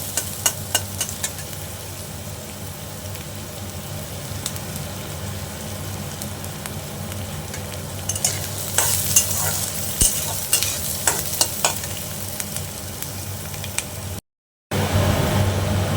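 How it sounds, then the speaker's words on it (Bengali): Onion and garlic fry gently in oil in a pan with a constant close sizzle, joined later by a run of clicking stirring and scraping sounds, then a brief gap of silence. "পেঁয়াজ আর রসুনটা একটু ভেজে নেব, বেশি ভাজবো না, অল্প অল্প ভাজবো"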